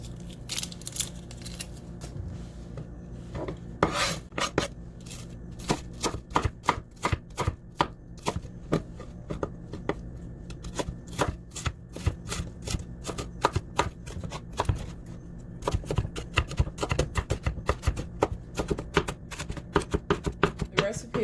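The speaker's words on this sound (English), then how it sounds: "I'm going to mince a shallot" A knife minces half a shallot on a cutting board, ends already trimmed, in rapid, steady chopping taps that run continuously and quicken toward the end, close and crisp with no talking.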